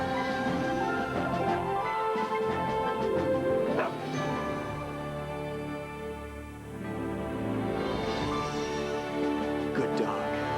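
A dog in a Jeep television commercial barks, yips and whimpers repeatedly at close range, mixed with music and other broadcast sound.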